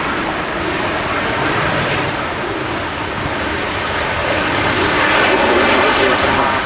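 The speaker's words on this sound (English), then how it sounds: "Touching down is another aircraft from Lisbon. It's a Boeing 737-800 with Ryanair, flight 2253." A Ryanair Boeing 737-800 arriving from Lisbon touches down at Manchester Airport with a loud, sustained jet roar that swells slightly toward the end.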